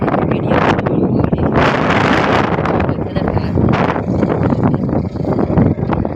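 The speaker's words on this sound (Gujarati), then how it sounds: "વાવડો મિત્રો આવતો છે ફૂલ કેમ કે પવન તડકો છે" Strong wind roars and buffets the microphone almost without pause, loud and close, with a voice faintly audible beneath the rushing noise.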